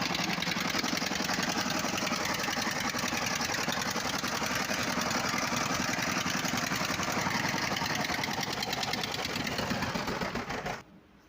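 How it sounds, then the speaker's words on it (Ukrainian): A walk-behind tractor diesel engine fitted in a ZAZ 968M car runs at raised throttle, a loud, dense, steady clattering drone that continues close up for about ten seconds before cutting off abruptly. "Так, ну ось ми її ще раз її вирішили завести і вже взяли до газ, йому збільшили."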